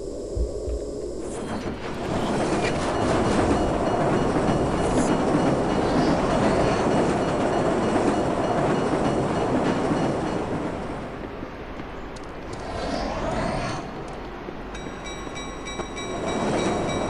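A train rolls past in the video game Marc Ecko's Getting Up, a loud rumbling clatter of wheels on rails that swells, holds and then fades, with game effects near the end.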